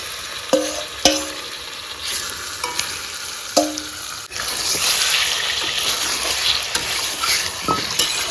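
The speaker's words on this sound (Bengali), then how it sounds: "এবার দিয়ে দেবো কড়াইয়ে। এবার আস্তে আস্তে আস্তে আস্তে করে কষাতে হবে।" Marinated chicken, flavored with mango, sizzles steadily in a wok while a utensil scrapes and stirs it, with sharp metallic clinks near the start and a louder, denser frying hiss later on, with no talking.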